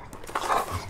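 A dog whimpering and panting in a short burst of whiny vocal noise, close and fairly loud, heard alone.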